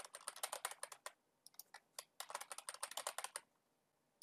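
Rapid bursts of keystrokes on a computer keyboard as a password is entered, with quick uneven clicks, a short pause partway, then another flurry. The room around it is quiet.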